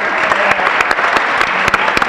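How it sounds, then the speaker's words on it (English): Audience applause at a high school spring band concert, steady dense clapping from a crowd filling the room with sharp individual claps standing out, no voices over it. "One more round of applause."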